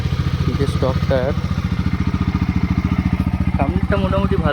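Bajaj Dominar 250 motorcycle idling steadily up close, a rapid even engine pulse running through the whole stretch while someone talks over it.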